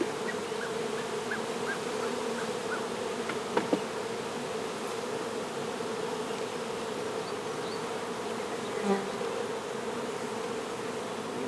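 Steady, dense buzzing of many bees in a bee yard fills the air continuously, a constant droning hum with a few brief clicks, no voices.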